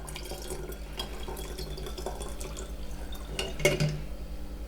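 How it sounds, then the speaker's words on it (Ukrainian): Lukewarm water pours into a container of brewed hibiscus tea for homemade kvass in a steady gurgling stream, with faint drips and a light glassy clink near the end over a low background hum. "Тепер я вливаю воду."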